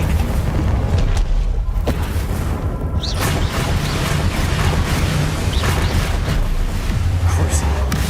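Bombarda spell explosion in Hogwarts Legacy: a heavy, continuous booming rumble with crackling debris through a dense combat soundscape, loud and sustained, with scattered sharp bursts on top.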